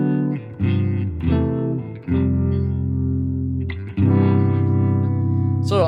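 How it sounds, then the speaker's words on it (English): Electric guitar through a Vibratone rotary speaker effect on a Fender Tone Master Pro amp, a few sustained chords swirling with a warbling, rotating shimmer, loud and close with no talking. "This is the Vibratone,"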